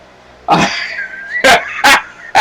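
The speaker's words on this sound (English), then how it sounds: "The dog's got in a fight" Dogs break into a scuffle, with a few sharp, loud barks and yelps bursting out in quick succession close by, separated by brief pauses.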